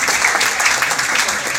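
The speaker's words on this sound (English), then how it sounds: "really deserving of that applause" A stand-up comedy audience applauds a comedian's debut set, giving dense, steady clapping that stays even and fairly loud from start to finish, with a faint murmur of voices underneath.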